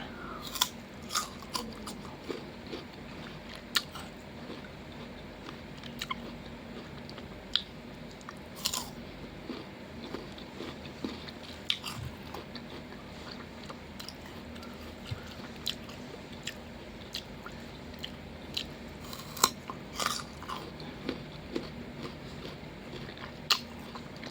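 Close-up crunching and chewing of guava and other fruit dipped in sweet fish sauce, with steady mouth sounds and sharp, repeated bites spread over about twenty seconds.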